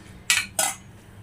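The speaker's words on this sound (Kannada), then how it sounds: "ಅದನ್ನು ಈಗೆಲ್ಲ ಮಿಕ್ಸ್ ಮಾಡ್ಕೊಳ್ಳೋಣ." A spoon clinks twice against a bowl while a grated carrot salad with grated coconut, green chilli, coriander and salt is mixed: two short, bright metallic knocks in quick succession in a quiet kitchen.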